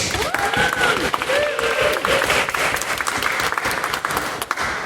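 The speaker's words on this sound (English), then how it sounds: "we have an amazing final set of teams to be done with a round of applause for all of them" A debate audience gives a loud round of applause for the final teams, with continuous dense clapping throughout and faint voices calling out over it.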